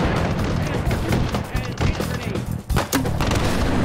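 Rapid gunfire from the video game Hot Dogs, Horseshoes & Hand Grenades, with dense bursts of shots that stay loud and continuous, dip briefly, then resume, and a voice sounding faintly underneath.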